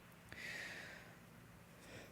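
A single sharp sneeze bursts out from someone nearby in a quiet room, followed by a short breathy exhale with faint background hiss.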